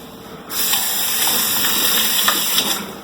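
Tap water gushes steadily into a sink as the shell is rinsed off boiled eggs, close and loud. The flow starts abruptly and runs continuously, with a few faint knocks under it.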